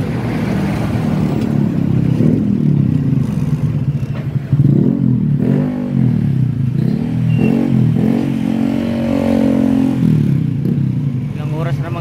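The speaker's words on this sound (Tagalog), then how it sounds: "Traffic na naman yan." Road traffic with motorcycles and cars in the Philippines, a loud, continuous near rumble of idling and revving engines with rattling clatter, under someone talking.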